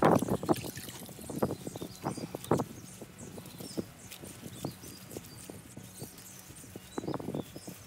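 Tap water splashes and trickles over a rusty exhaust pipe during rinsing, with a burst of sharp splashing and clatter at the start, a quieter dribbling middle and renewed splashing near the end.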